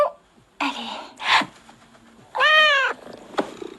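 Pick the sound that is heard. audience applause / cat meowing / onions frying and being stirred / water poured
cat meowing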